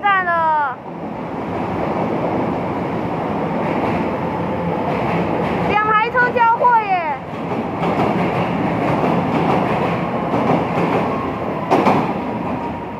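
A Taiwan Railway 700-series commuter EMU, local train 2203 bound for Chiayi, pulls into North Hsinchu station with a steady, loud rolling rumble and brief squealing brakes, while a station announcement voice speaks over it.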